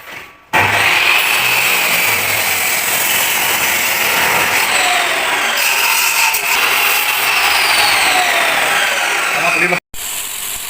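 A power tool polishes metal parts during a Honda CBR 1000 engine swap into a Polaris RZR, a loud steady grinding whine running about ten seconds with a brief cutout near the end.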